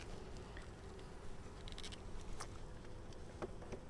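Honeybees at a Flow Hive during an open inspection: a faint, steady, diffuse buzzing drone with scattered soft ticks and a few brief nearer buzzes, no talk.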